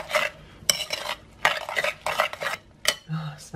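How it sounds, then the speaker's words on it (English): Garlic is stirred into zucchini in a bowl, with repeated clinks and scrapes of a utensil against the dish in short irregular bursts, close up and with no talking. "Garlic in. I'll just mix that together."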